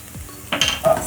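Garlic dropped into softening onions in a frying pan gives a brief close clatter of utensil against pan, followed by a light sizzle, all within about a second and with no talk.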